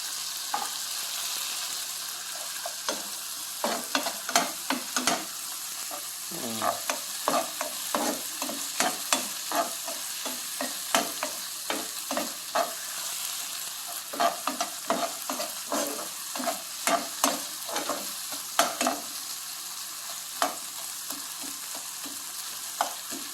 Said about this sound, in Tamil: பச்சை பட்டாணி வதங்கலையும் பாருங்கள்